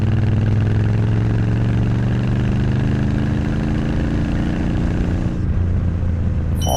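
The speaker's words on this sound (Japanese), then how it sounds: "一定走行で走ってて、そこからさらに加速する時の音ですね。" Triumph Bonneville T120 motorcycle accelerating from a steady cruise, its exhaust a loud, continuous rising drone with strong low harmonics that swells, then drops abruptly near the end as the throttle eases.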